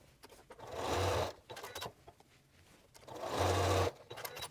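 A sewing machine stitches scrap fabric strips for a string quilt, running in two steady, close bursts separated by quiet handling noises.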